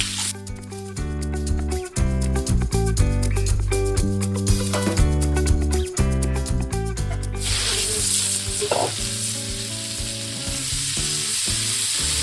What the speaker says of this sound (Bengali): পটলটাকে ভেজে নিচ্ছি।